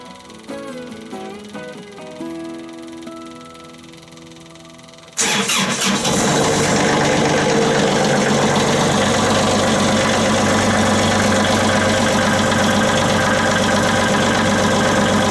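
A Kubota tractor engine cranks over in the cold at about five seconds, then catches and settles into a loud, steady diesel idle that runs to the end, close by.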